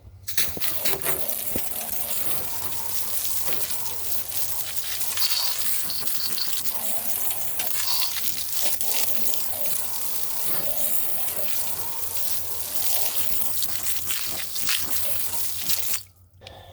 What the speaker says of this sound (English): I'll take a sponge, rinse it all off